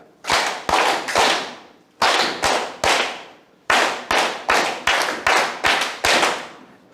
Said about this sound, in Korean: 337 박수 한번 하겠습니다